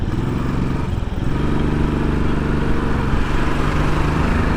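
A Stealth Black 500 motorcycle, an SB500, rides along a road with its engine thumping steadily. The loud, even running note stays close throughout and nobody speaks.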